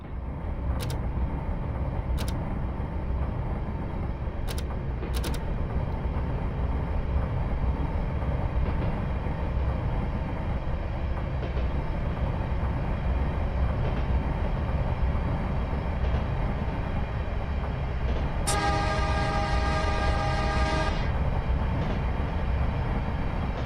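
An electric interurban train on the San Francisco to Sacramento line in Train Simulator runs at full speed with a steady loud rumble, occasional track clicks and a brief horn-like tone near the end, no voices.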